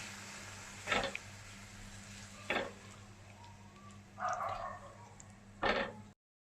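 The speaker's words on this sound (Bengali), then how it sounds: "একটু মশলা দেওয়া জল দিয়ে দিচ্ছি। ভালো করে নাড়িয়ে নিচ্ছি।" A spoon scrapes and stirs garlic chicken after spiced water is poured into the pan, giving four short sizzling, scraping bursts separated by quiet pauses.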